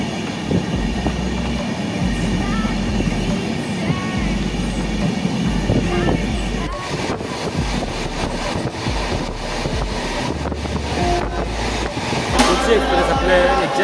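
The Tulsi Express, travelling from Mumbai to Prayagraj, rumbles along in a sleeper class coach near the toilet area. Loud continuous rattling and rolling noise carries low, rhythmic wheel thumps, with a voice faintly present at times.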